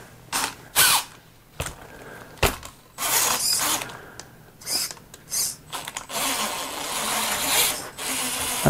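Repeated ratcheting clicks and whirring bursts from an Axial Capra RC crawler digging into dirt, irregular loud mechanical clatter with gear grind, close up, no talking.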